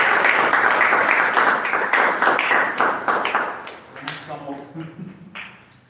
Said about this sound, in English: Keep making your applaud going on.